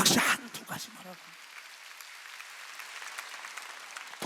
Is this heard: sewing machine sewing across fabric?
no